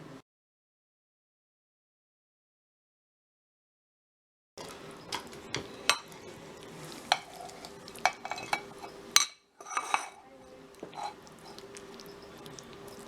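A baked beef and noodle pasta casserole topped with golden-brown cheese and parsley being cut and served, with close utensil scrapes and taps against the dish after a silent opening, no talking.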